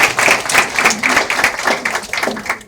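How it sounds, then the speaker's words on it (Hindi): Audience clapping at a staged play performance, a steady patter of hand claps with some individually audible slaps over a few seconds, fairly close and moderately loud with no talk. "थोड़ी तालियां बजा दीजिए"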